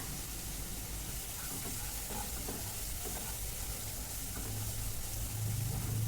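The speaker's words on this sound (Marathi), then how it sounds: "आता आपला खरडा वगैरे छान भाजलाय" Kharda, a spice paste, roasts in a pan with a low, steady crackle and sizzle that holds evenly throughout, close by and fairly quiet, with no voices.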